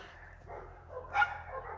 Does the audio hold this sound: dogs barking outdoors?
yes